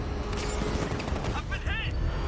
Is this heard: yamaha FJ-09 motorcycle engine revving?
no